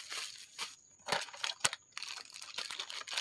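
Packaging for small electronics components, like servo motors and sensor modules, being crinkled and handled up close in bursts of sharp plastic rustling and crunching, with short pauses between.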